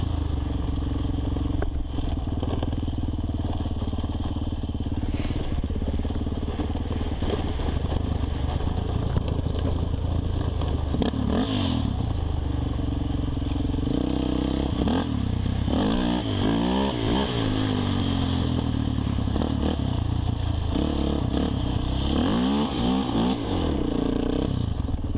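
A Suzuki LTZ 400 quad engine climbs a hill, its engine note steady and moderately loud, rising and falling with throttle changes over rough ground and mixed with clattering wind noise.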